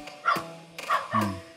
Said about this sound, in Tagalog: Tinatawalan kami ng aso.